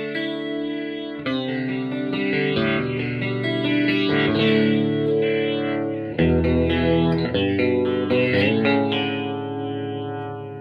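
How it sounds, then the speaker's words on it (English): A Fender Super Champ X2 amp playing a clean electric guitar through its vibratone rotating-speaker effect, giving wobbling, swirling chords that ring steadily and loud, with no talk. "A little bit of rotation there from your wobbly speaker cabinet."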